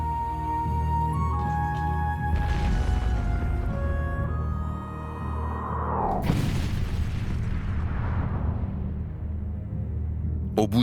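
More than fifty cannons bombard a castle day and night in a war sound effect, deep booms and rumbling blasts rolling over a dense low drone, with one large burst near the middle.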